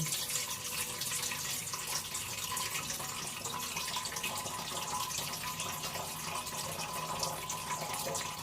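Tap water runs steadily into a sink or basin to soak freshly harvested vegetables, including lemongrass, tomatoes and Malabar spinach, a continuous close splashing stream with no talking.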